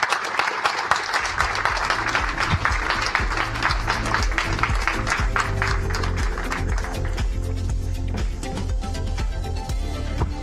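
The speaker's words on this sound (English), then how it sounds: "Let's hear a round of applause for him, please." An audience at a tech policy forum applauds a guest, the Ambassador at Large for Cyberspace and Digital Policy, with dense sustained clapping that thins over the final seconds while a low steady hum sits beneath.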